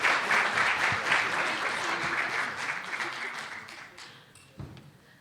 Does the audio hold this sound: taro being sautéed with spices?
no